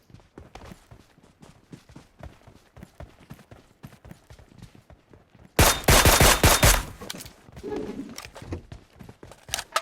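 Video game gunfire rattles in rapid single shots and short bursts, then erupts into a loud, dense volley midway before returning to scattered shots.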